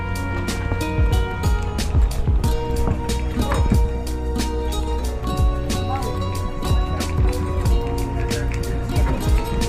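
Steady rumble of a boat engine on the water at Boracay, with repeated thumps and splashes and faint voices in the background throughout.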